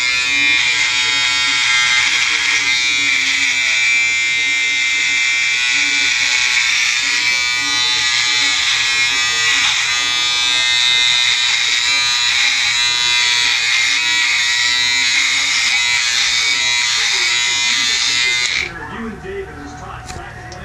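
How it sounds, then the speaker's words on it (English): An electric razor buzzes loudly and continuously while shaving off a neckbeard, a harsh close-up drone that holds for nearly the whole stretch before cutting out near the end. "I'm gonna shave like this."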